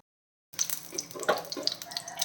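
Paneer goes into hot oil in a pan for shallow frying, starting a close, steady crackling sizzle with small pops after a brief silence.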